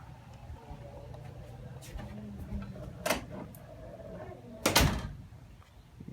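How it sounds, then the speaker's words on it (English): A Stanley hydraulic door closer with a slightly loose arm swings a door shut, giving a soft click partway through and a sharper latching thud near the end over a low room hum. "We're going to be demonstrating my Stanley door closer for you guys."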